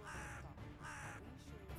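A black crow caws loudly two or three times in harsh, close calls, set in a dark paranormal ghost tale about a raven spirit.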